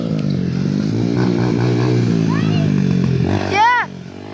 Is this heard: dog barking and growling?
no